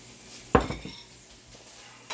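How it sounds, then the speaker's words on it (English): A spatula knocks against pots and pans while an egg, cheese and potato omelette is being made, one sharp close metallic clank followed by a brief rattle. "Move my spatula."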